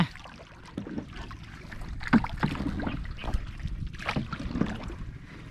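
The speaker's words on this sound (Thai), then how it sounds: "ตอนนี้ก็ กำลังพายเหือเนาะ" A rowboat is paddled on the Mekong River during a fishing outing. Irregular close splashes and oar strokes sound over steady wind and water noise, with no talking.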